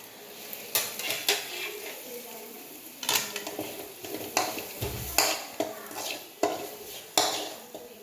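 Metal spoon scraping and clanking against a pan while okra tomato curry is stirred, with repeated irregular knocks over a faint background sizzle.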